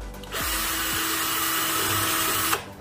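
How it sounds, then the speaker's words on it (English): A large power drill bit countersinks a screw hole in the frame of a mirror door, a steady loud whine running for about two seconds after starting, then winding down. "Then I'm using big drill for countersink for the cap for the screw."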